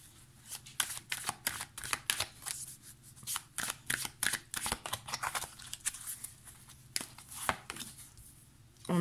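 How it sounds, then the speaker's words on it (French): Tarot cards are drawn one by one from a deck in a quiet room, making a long series of crisp, close slapping and snapping sounds at an irregular pace, with no talking. "Je vais tirer les 9 cartes avant de vous dire ce que je ressens."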